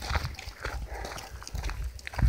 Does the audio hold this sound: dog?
yes